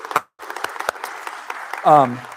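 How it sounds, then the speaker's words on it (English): Scattered applause from a community meeting audience salutes the newsletter committee: a thin patter of claps with a brief gap near the start, then a voice speaks briefly near the end. "round of applause for the newsletter"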